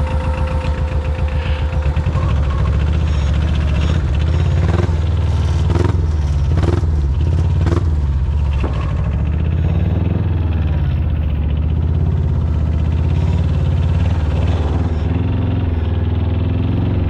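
A military diesel ATV churns through a pond, its engine a loud, continuous knocking rumble close by, with splashing and clattering bursts in the middle stretch as it pushes through the water.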